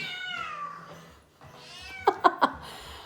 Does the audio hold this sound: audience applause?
no